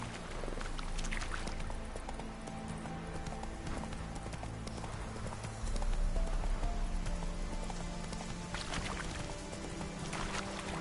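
Roach the horse gallops across open ground in Witcher 3, hooves drumming in a fast, steady clip-clop rhythm that grows heavier midway.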